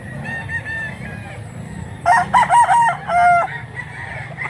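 A rooster crows loudly and close by at a chicken sale, a long broken cock-a-doodle-doo, over a steady background of other fowl clucking and murmuring.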